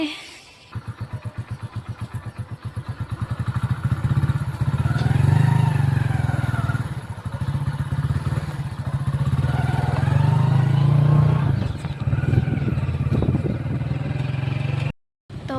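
A motorcycle engine starts with rapid putters, then revs and rides along, rising and falling in pitch as it moves, loud and close.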